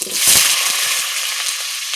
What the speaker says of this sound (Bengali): এখন মাংসের জন্য আলুগুলো ভাজা করে নেবে লাল লাল করে